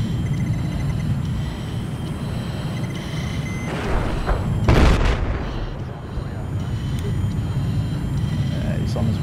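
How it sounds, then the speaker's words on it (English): A tank-hunting jet in Battlefield 4 roars with constant engine noise, broken midway by a loud explosive boom and scattered blasts, while a player talks over the action. "I'm in that plane that can take out tanks."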